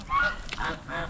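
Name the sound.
geese honking on a farm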